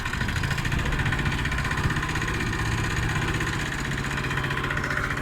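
A Sparta 25 walk-behind tractor pulls a trailer over a rough road in fourth gear, its single-cylinder engine chugging in a loud, steady, close-up rumble with rattling vibration.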